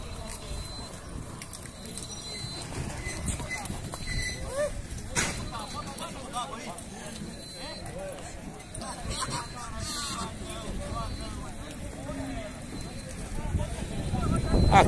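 A horse walks at a horse fair in Canafístula, Alagoas, Brazil, its hooves clopping on the ground amid steady crowd noise. People talk nearby throughout, and a bird coos faintly in the background.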